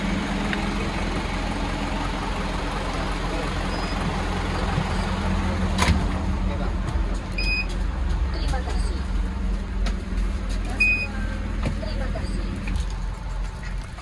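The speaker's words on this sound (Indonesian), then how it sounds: "ini saya sudah ada di dalam shuttle bus di Bandara Soekarno-Hatta" Inside a moving airport shuttle bus at Soekarno-Hatta Airport, a steady low engine rumble and road noise fill the cabin, with a few faint chirps and clicks and people talking over it.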